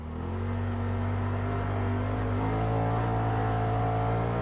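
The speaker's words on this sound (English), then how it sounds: "The engine does have a tendency to rev super high though" A Polaris RZR Pro XP 4 side-by-side UTV engine revs up and holds a high, droning whine, with a pitch climb midway, loud and close throughout.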